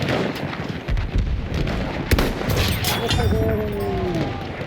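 Scoped rifle shot in Battlefield 1, a sharp boom with a rolling echo amid a noisy battlefield of distant blasts and gunfire, with a brief whistling tail afterward.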